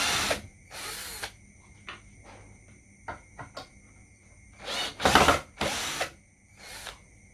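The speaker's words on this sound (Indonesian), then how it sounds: "Dan kita coba membuka sekrup." A cordless 36V drill unscrewing a screw whirs in several short bursts with quiet pauses between, with faint clicks and ticks in the gaps. The motor sounds close and fairly loud.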